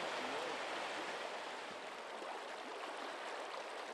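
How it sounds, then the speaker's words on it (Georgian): Swollen river valley rushing after heavy rain and storm, a dense steady torrent of water roaring without pause, moderately close. "მაგარი წვიმა და ადიდა ხეობა და წაიღო ხიდი ნახევარი"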